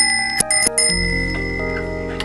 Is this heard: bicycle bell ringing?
yes